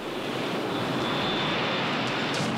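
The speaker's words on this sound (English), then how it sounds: "Get him to the seaplane." A seaplane engine roars in a steady, loud, broad wash of noise that sounds close and continuous, with no talking.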